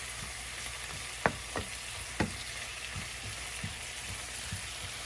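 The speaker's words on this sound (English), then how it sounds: "I'm just waiting on the onions to saute." Onions sauté in a pan with a steady soft sizzle, broken by a few sharp utensil scrapes and taps, heard close and alone.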